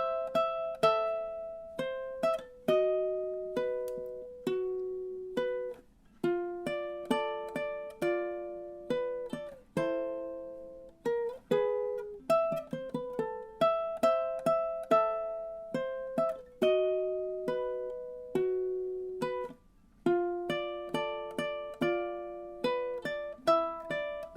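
Solo ukulele plays the main theme from the video game Luigi's Mansion, plucking a bright melody in steady phrases with some dramatic pauses, close and clear, with no voices.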